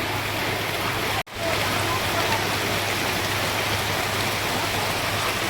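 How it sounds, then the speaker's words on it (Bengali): Heavy rain falling steadily, a constant pattering hiss with a low hum underneath and one brief dropout. "কি সুন্দর একটা বৃষ্টি হচ্ছে।"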